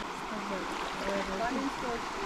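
Stream water flowing at a river crossing on a spring hike, a soft steady burble in the background while people speak over it.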